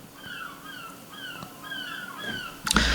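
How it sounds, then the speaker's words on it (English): Several birds chirp and whistle in repeated short rising calls outdoors, fairly close, before a louder rustling burst near the end. "It's that time of the year where you start to hear birds in my videos."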